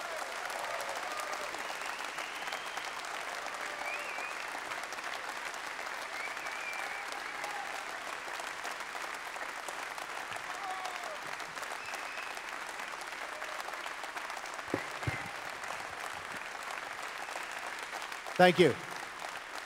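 Sustained audience applause fills a hall as someone is welcomed onstage at a Weltwoche live event, a steady dense wash of clapping throughout, with a brief voice speaking near the end.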